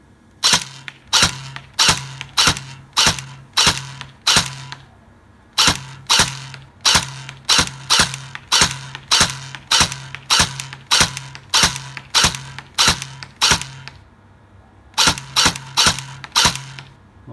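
A WELL M4 airsoft rifle fires semi-auto at a target 15 meters away, with sharp snapping shots in quick, fairly regular runs and a brief pause partway through, loud and close with no talk.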